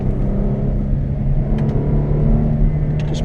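A Mercedes-Benz E350/E400 Cabriolet with air suspension cruises on a spring drive, heard from inside as a steady low engine and road rumble with a smooth, even hum.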